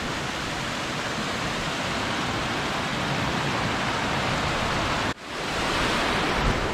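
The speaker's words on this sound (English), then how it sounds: "another beautiful little waterfall here." A small waterfall on the Upper Skyline Trail at Mount Rainier rushes steadily with a dense, even roar, close by, briefly dipping once before resuming.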